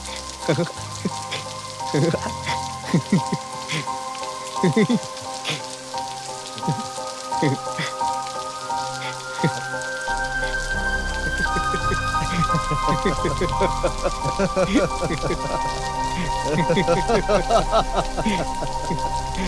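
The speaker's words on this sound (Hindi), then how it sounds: "अचानक से बारिश होने लगी। कितने सालों के बाद मैं भीग रहा हूँ।" Sudden rain falling in a dubbed South Indian film scene, a continuous patter of drops on surfaces mixed with music and sparse voices, the downpour thickening and growing louder in the second half.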